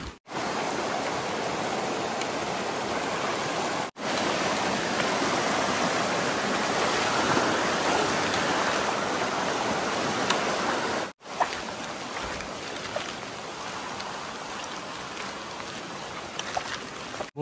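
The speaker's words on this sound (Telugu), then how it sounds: "ఇక్కడ మళ్ళా ఒక చిన్న కాలువ వచ్చింది" A small stream of flowing water gives a steady broadband rush, close and continuous for the whole span, with only brief breaks and no talk.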